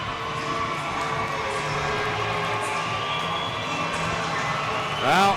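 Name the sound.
hockey crowd cheering in an arena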